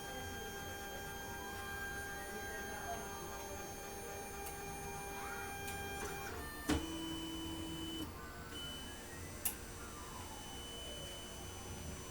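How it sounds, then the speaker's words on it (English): A malfunctioning office printer runs with a steady mechanical hum and whine, broken by a sharp clunk partway through and a second brief knock later, heard alone at moderate level. "This printer is like legitimately like all jacked up right now."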